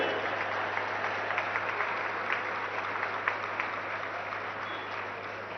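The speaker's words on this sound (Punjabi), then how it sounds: "ਇੱਕ ਵਾਰੀ ਆਪਣੇ ਆਪ ਲਈ ਜ਼ੋਰਦਾਰ ਤਾੜੀ ਮਾਰ ਲਓ" Children at an anti-drug pledge event led by Punjab's Chief Minister applaud loudly, a dense, continuous crowd clapping that holds steady for several seconds with no one speaking over it.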